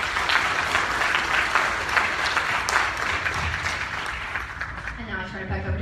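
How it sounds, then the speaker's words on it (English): Applause from the audience at an awards dinner honoring Eastgate Lanes staff, steady dense clapping throughout, thinning toward the end as a voice begins to speak. "please give them all a round of applause"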